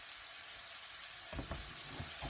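Fresh ginger sizzles steadily in a hot pan during a quick stir fry, with a burst of louder frying and stirring clatter arriving about halfway through.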